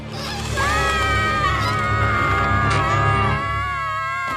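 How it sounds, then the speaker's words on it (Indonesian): Cartoon ponies shriek in a long, sustained high-pitched scream, several voices rising together and holding loud for several seconds over a low background. "Kalian bisa berhenti berteriak sekarang."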